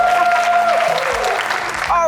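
An audience claps and cheers for people throwing darts at balloons, with sustained applause and crowd noise close by and a voice speaking over it.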